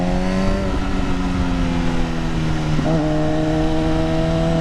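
MV Agusta F4R motorcycle running on its stock exhaust, a close, loud, steady engine drone that shifts pitch with a quick rev change near the end; no one speaks.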